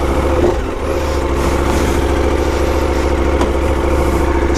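A KTM 1290 Super Adventure S motorcycle idles close by with a loud, steady low throb and a constant mechanical hum, unbroken for several seconds with no talking.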